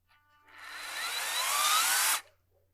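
Rotary scissors lawn edger cutting Bermuda grass, a close, steady whirring buzz that swells for about two seconds and then cuts off abruptly.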